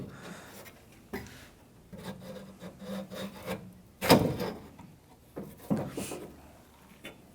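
The metal lock rod of a 1997-2003 Ford F-150 tailgate latch slides through the latch with scraping, rubbing strokes in short bursts, one louder clack standing out near the middle.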